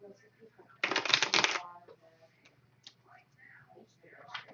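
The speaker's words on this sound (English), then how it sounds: "I'm going to shuffle my cards real quick." A deck of playing cards gets a quick, crisp riffle shuffle lasting under a second, close and loud, followed by soft whispered speech and small handling noises.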